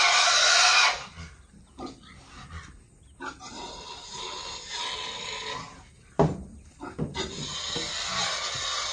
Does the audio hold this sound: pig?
yes